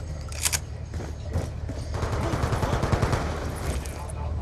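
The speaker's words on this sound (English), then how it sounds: "Shots fired." Gunfire from the video game Black Ops 2 in a 2v2 match, with a few sharp shots early and then a sustained rattling burst of fire. Game noise continues under it.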